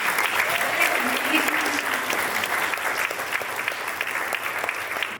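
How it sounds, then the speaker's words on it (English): A ceremony audience applauds at a scholarship event, with steady, sustained clapping from many hands that fills the room evenly for the whole stretch, with faint voices mixed in. "give yourselves a round of applause for me"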